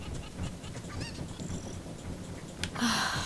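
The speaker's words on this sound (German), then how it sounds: "die Hühner" Clucking and honking poultry calls from chickens in the video game Zelda: Ocarina of Time, heard over a steady busy game background, with a sharp louder burst near the end.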